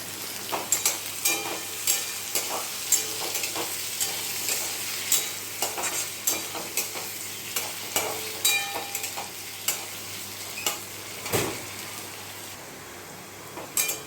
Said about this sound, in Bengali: আমি এবার আলুগুলো দিয়ে দিচ্ছি। আলুগুলো ভেজে নেব।